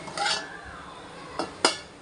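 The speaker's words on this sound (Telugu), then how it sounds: "మళ్ళీ మూత పెట్టేసి సిమ్లో పెట్టేసుకోవాలి ఫ్రెండ్స్." A metal lid clinks onto a pot of simmering chicken pulao, a scrape followed by two sharp, close clanks near the end, with soft kitchen noise between.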